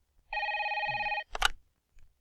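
A telephone bell rings in one long electronic trill, then a clunk as the receiver is picked up and a short faint sound after, in a quiet room.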